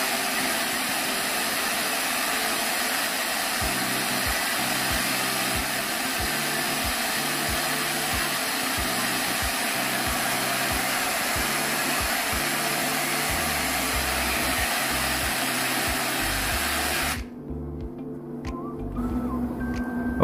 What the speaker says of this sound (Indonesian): Akan saya nyalakan untuk ping noise-nya.